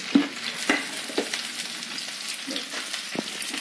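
Spices frying in hot mustard oil for a jackfruit curry, giving a steady close crackling sizzle with a few sharp pops and spatters near the start.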